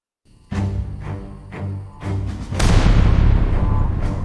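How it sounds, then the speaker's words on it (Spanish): Dramatized gunfire in a tense wartime story of sailors, a series of booming shots in quick succession ending in a large, lingering blast with a sustained rumble. "Uno de los marineros ingleses, nervioso, con el dedo demasiado apretado, disparó."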